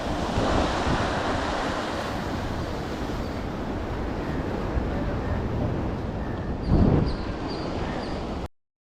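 Sea waves washing against a rocky shoreline in Pondicherry, a steady broad surf wash under gusting wind noise, with one louder crash of water near the end before it cuts off.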